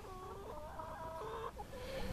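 Chickens clucking nearby, a run of drawn-out, wavering cackles and short clucks over light background noise, close and fairly quiet.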